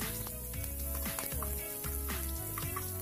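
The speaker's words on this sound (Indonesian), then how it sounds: "Tumis bawang sampai harum dan layu" Onions sautéing in a pan for papaya spring rolls, a steady close sizzle and crackle, with periodic scraping strokes of a utensil repeating about every half second.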